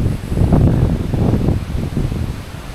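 Strong wind buffeting the microphone at the Col des Vaux mountain pass on the GR10 trail, a loud, continuous rushing roar that swells and eases slightly, with no voices.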